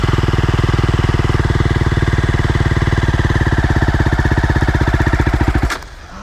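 A clutch dirt bike engine runs loud and close in a steady, rapid rhythm of engine firing, holding at a raised rev before dropping abruptly to a low idle near the end.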